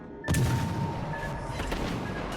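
Warship main battery guns fire armour-piercing shells in the naval video game World of Warships Legends: one heavy, deep boom that lingers as a rumbling roar, with no voices over it.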